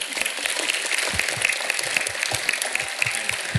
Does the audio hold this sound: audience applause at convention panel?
yes